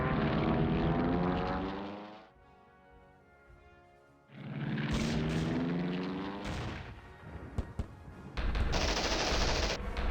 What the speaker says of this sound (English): Our 109s are deciding to strafe a rail yard.